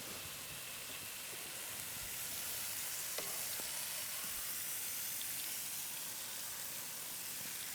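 Meat frying in a pan gives a steady, close sizzle and hiss throughout, with a few faint utensil or stirring clicks and no talking.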